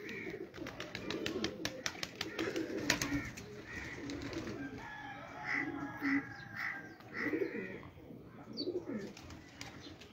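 Pigeons coo softly on a rooftop, with repeated low throaty calls spread through the clip, some nearer and some farther, over background noise, sharp clatters and occasional faint voices.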